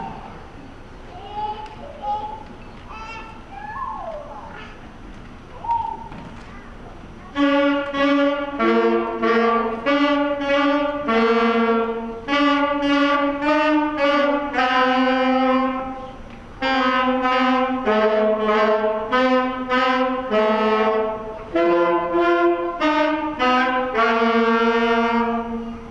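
A fifth grade school band saxophone section plays a tune at a concert, bright reedy chords in a steady rhythmic pattern after a brief quieter lead-in with faint murmuring.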